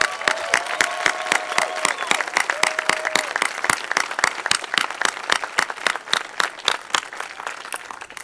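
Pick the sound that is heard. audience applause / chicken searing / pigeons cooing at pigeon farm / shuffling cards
audience applause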